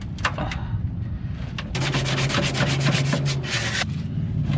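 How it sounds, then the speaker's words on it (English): Rough, rhythmic sanding strokes rasp against a van's metal body panel up close, quickening into a steady scrubbing run before easing off. "Start off by sanding her down"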